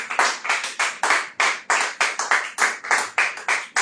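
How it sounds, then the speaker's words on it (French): A church congregation applauding and acclaiming the Lord, hands clapping together in a brisk, steady rhythm of about a dozen sharp, close claps. "Est-ce que quelqu'un peut encore acclamer le Seigneur?"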